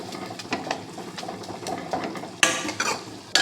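Drumstick leaves fry in a tempering of hot oil as a spoon clinks and scrapes against the pan in irregular stirs over a low, crackling sizzle.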